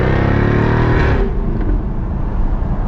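A Jaguar F-Type convertible with the top down roars loudly up close, its engine note rising and then falling away as the revs drop, with no talking.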